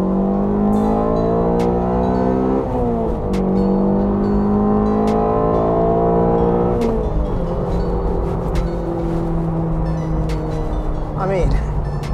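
A Honda CR-Z fitted with a K20 engine revs hard toward 8,000 RPM, its loud rising engine note climbing in repeated pulls with brief drops between them, close to the microphone.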